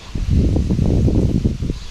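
Wind blows across an open riverbank while spinning-rod fishing, a steady rough rushing and buffeting close to the microphone with no talk.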